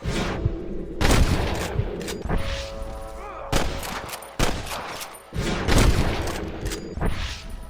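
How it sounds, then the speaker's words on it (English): Volleys of gunfire ring out in a Red Dead Redemption shootout, loud and near, with repeated bursts of rapid shots and a few heavier booms spread across the stretch, nearly free of talk. "I can hear more gunshots."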